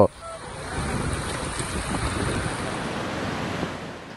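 Rough surf crashes and churns continuously against a riverbank in Monterrey during a storm, with steady wind buffeting the microphone throughout.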